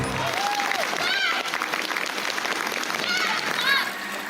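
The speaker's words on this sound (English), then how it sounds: "Clap your hands." A crowd of audience members claps hands steadily and loudly throughout, with faint children's voices and chatter mixed in under the applause.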